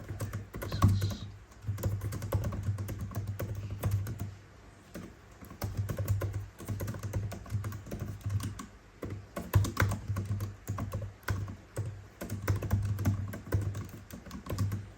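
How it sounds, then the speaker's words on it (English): Quick, quiet clicking from the keyboard of a 14-inch MacBook Pro M1 Pro, with soft keystrokes in steady bursts and a few short pauses, heard close and on their own. "And let me type on it quickly."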